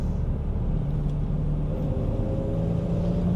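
A BMW E34 M5 straight-six of about 340 brake horsepower, European trim, pulls hard under acceleration with a steady, dense low rumble and rising engine tone, heard from inside the car with no talking.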